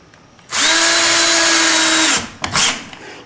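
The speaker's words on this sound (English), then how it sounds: "one of the greatest inventions of all time is the cordless drill." A cordless drill whirs loudly and steadily for about a second and a half while doors are being hung, then stops, followed by a short second burst.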